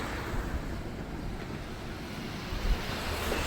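Water released through the sixteen opened gates of the Ujani dam into the Bhima river roars as a steady broadband rush, with wind buffeting the microphone and no voices.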